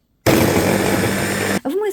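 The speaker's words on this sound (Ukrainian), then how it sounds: "В блендер я закидую картопельку, цибулю та часник" An electric blender runs loud and steady while chopping potato, onion and garlic, starting abruptly and cutting off near the end, with a voice briefly speaking afterward.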